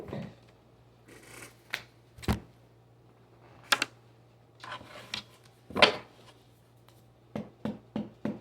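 Tarot cards shuffled by hand in several quick riffling bursts, the crisp slaps of card stock separated by short quiet gaps and a faint steady hum underneath.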